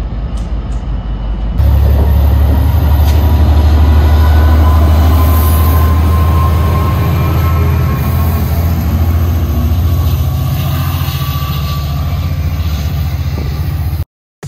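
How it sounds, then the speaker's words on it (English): A GM F59PH diesel locomotive's deep, loud drone starts suddenly and holds steady, with rail clatter and faint wheel squeal as it pushes a GO Train away from Port Credit station. "let's watch our train depart. It's being pushed by locomotive 564, which is a GM"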